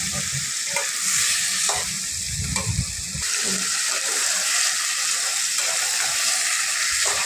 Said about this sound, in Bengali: এখন আমরা এর মধ্যে লতা এবং আলুগুলো অ্যাড করে দিব, ভালো করে কষিয়ে নিব এগুলো।